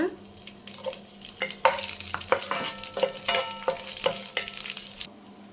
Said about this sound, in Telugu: నెయ్యి అయితే వేసుకుంటున్నా ఫస్ట్గా జీడిపప్పులు వేస్తున్నాను యాలక్కాయలు కిస్మిస్ అయితే వేస్తున్నా